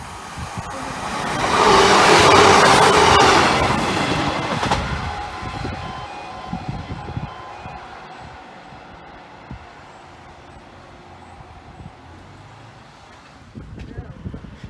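An East Midlands Railway train passing the Hykeham level crossing, a loud rumbling swell that peaks early and fades into a low lingering roar, with a faint announcement-like voice in the background.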